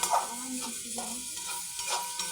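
A coconut, sugar, potato and mawa barfi mixture is stirred in a pan, giving a soft scraping and sizzling hiss with a few louder strokes, and a voice talks over it.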